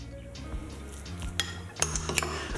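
A spoon clinks and scrapes against a bowl as smoked salmon guacamole is mixed with onion and dill, soft stirring building to a few brighter metallic taps near the end.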